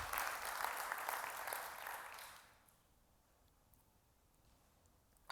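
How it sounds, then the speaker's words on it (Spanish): A church congregation breaks into strong applause, a dense wash of clapping that fills the first two and a half seconds and then fades away to near silence. "Le da ese aplauso fuerte"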